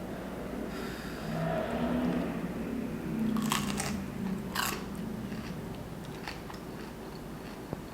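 Someone bites into a hot, crispy onion ring and chews, giving a few close crunches followed by softer steady chewing, with breathy noises over a faint background hum.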